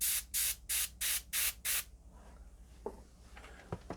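An airbrush loaded with Game Air Black paint fires six short, even bursts of hissing spray in quick succession, then falls quiet apart from faint handling clicks and taps.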